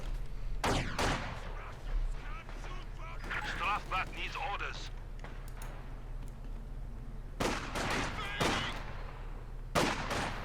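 Bursts of machine gun fire in a WWII real-time strategy match, sharp repeated volleys at irregular intervals over a low engine drone, with a commentator talking throughout.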